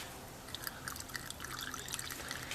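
Water poured into golf cart battery cells, a soft steady trickle with faint drips and splashes, quiet and close, without talking.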